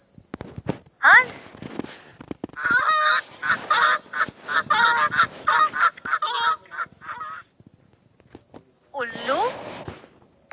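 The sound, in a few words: goose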